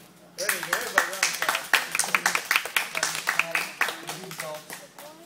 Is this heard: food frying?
no